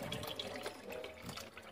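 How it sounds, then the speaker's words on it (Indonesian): Plain room-temperature water poured over butterfly pea flower boba, a steady close splashing pour like a running tap, continuous and fairly loud with no talk. "Lalu siram dengan air biasa atau air suhu ruang biar tidak saling menempel bobanya."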